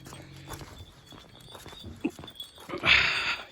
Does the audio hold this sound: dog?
yes